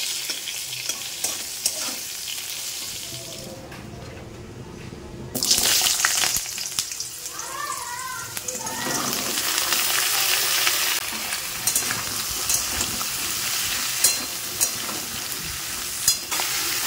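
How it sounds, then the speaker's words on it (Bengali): Ridge gourd with poppy seeds and eggplant frying in oil, a steady close sizzle with stirring and scraping throughout, a brief quieter moment early on, and occasional sharp clinks of a utensil against the pan. "তো এখানে ঝিঙে পোস্তটা ফোড়ন দিয়ে দিলাম।"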